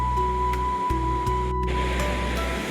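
Alaknanda river flowing where it meets the Mandakini near Rudraprayag, a steady broadband rush of moving water with a constant tonal hum running beneath it, with no voices.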